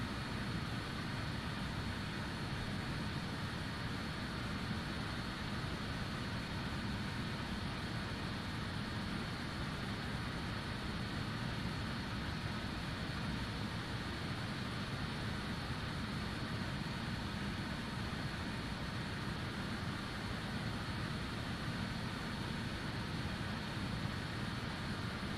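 Jet engines of a Just Flight Avro RJ airliner cruising in a flight simulator, a steady, unbroken broadband cabin roar and hum with no variation over the whole stretch.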